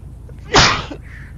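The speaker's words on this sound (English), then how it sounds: "Sneezing bit inside my damn tongue." A person sneezes once, loud and close, a sharp burst that tails off quickly and stands alone against a quiet background.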